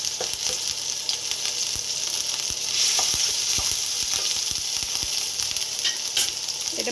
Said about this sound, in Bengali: 1/2 চামচ আদা বাটা দিয়ে এটাকে একটু নেড়ে নেব